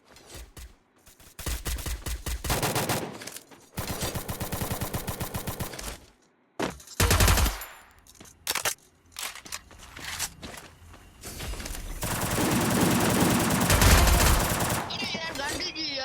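Rapid automatic gunfire in the mobile shooter Free Fire MAX, with loud sustained bursts and single shots broken by short gaps, then a long continuous volley near the end.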